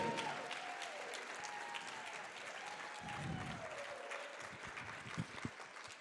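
Dense, sustained clapping from a crowd at a professional dance championship in Arizona, fairly distant, with a faint melodic tango tone drifting underneath.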